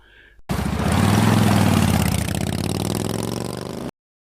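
A Harley motorcycle engine rumbles into life after a short quiet lead-in, running loud and close with a deep, throbbing idle that holds steady before cutting off abruptly.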